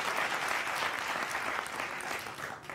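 Steady clapping from a live audience at a Hindi comedy poetry show, a dense wash of many hands that holds loud and even throughout, with no talk over it.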